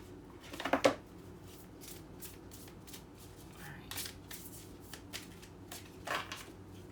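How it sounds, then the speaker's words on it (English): Tarot cards being shuffled by hand, a louder riffle near the start followed by quieter intermittent shuffles and soft card snaps, close and fairly faint. "I just give it a good faith shuffle"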